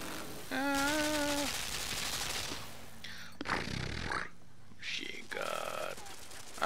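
A machine gun fires in the puzzle-platformer Limbo, a brief rough burst of rattling shots mixed with other mechanical game sounds and tonal effects.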